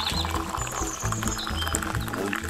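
Cowboy coffee pours from a pot into a cup in a steady, close, continuous splashing stream that never breaks.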